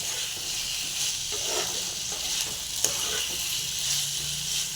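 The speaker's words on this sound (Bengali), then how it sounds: "এবার আলুগুলো দিয়ে আমি ভালো করে কষিয়ে নেব।" Potatoes frying in spice masala in a pan, a steady bright sizzle and hiss with soft scrapes of a stirring spoon, close and continuous, no voices.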